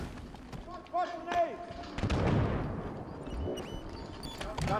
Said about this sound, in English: We ran right into that grenade.